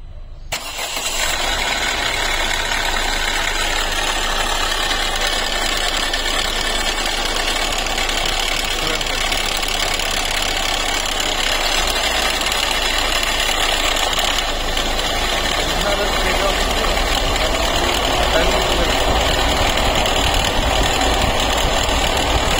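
A Ford EcoSport with a dynamo problem cranks and starts, then settles into a steady, loud mid-pitched idle with a slight rattle, recorded up close in the engine bay and running without pause.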